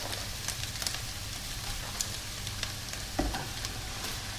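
Rice sizzles and fries steadily in a hot pan, a continuous crackling hiss with a brief louder clatter near the end, no voices over it.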